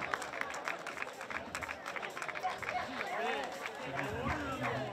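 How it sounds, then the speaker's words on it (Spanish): Applause and cheering from a crowd at a charity running race, with clapping and chatter mixed with voices. "Fuerte aplaudiment para Jordi, sisplau"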